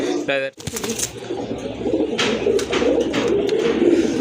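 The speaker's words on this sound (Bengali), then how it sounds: "মাশাল্লাহ বিগ সাইজের এক জোড়া কবুতর" Pigeons of a large breed give soft, low coos in a loose pair, close by with shop or market noise behind them, after a short burst at the start.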